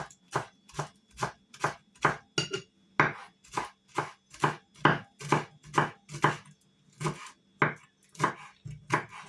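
Rapid, rhythmic knife chops on a cutting board, close and crisp, roughly two strikes per second with no talking.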